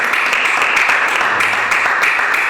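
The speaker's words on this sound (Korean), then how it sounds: "하나님께 영광 박수를 드립니다." A church congregation applauding, a dense steady wash of clapping that stays loud and even throughout, with a faint voice underneath.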